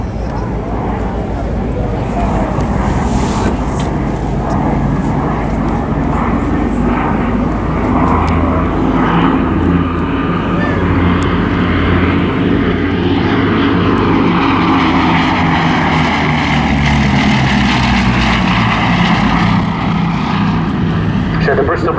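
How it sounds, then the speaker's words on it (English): A Bristol Blenheim with twin Bristol Mercury radial piston engines drones loudly and steadily overhead at an airshow, the propeller roar swelling and shifting as it passes, with a voice speaking over it throughout. "Powered by two Bristol Mercury radial piston engines rated at 905 horsepower."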